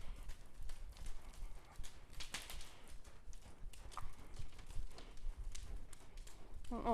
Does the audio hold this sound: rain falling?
no